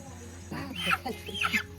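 Chickens cluck in a short burst of a few calls at a poultry farm on a rainy night, mid-distance and fairly quiet over a low steady hum.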